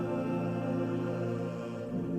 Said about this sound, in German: habe ein erstes Demo aufgenommen